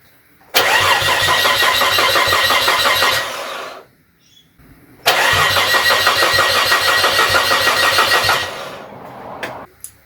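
Nissan Stagea engine freshly fitted with a GT35/40 turbo cranking over on the starter with no ignition, two long close bursts of rhythmic churning, each about three seconds, separated by a short pause.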